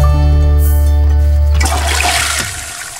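A toilet flushes in The Sims 4, a loud rushing swirl of water over steady game music, fading toward a trickle at the end.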